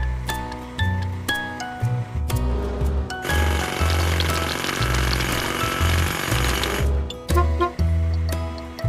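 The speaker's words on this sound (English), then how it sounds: "Hydraulic hammer." A toy hydraulic hammer on a play loader cracks rocks, a buzzing rattling burst of several seconds between sharp clicks and clacks of plastic parts being moved and set down.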